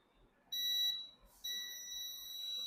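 A multimeter's continuity test sounds while it checks a capacitor on a circuit board. It gives a shrill electronic beep of about half a second, then a brief pause and a second steady beep that lasts to the end.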